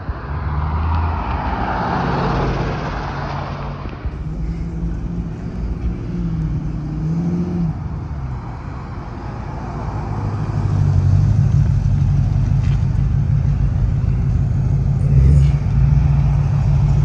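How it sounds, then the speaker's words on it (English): A Chevy pickup with newly installed 4.10 gears and a limited-slip rear end drives on a test drive. A steady engine drone and road rumble build louder toward the end, heard alone with no voices. "Try to give it a test drive around the block or something."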